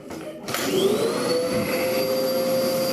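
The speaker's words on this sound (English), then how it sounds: "This is a vacuum cleaner." A household vacuum cleaner switches on with a thump and settles into a loud, steady whining drone with a rising motor tone, running close by without talk.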